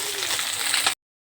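Small tengra fish, all added to the pan at once, frying with a dense, continuous hiss close to the mic, then cutting to silence.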